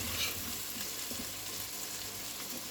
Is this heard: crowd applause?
no